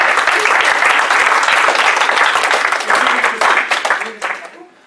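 Loud audience applause at a furry convention event fills the space, dense continuous clapping with a few cheers that tapers off toward the end.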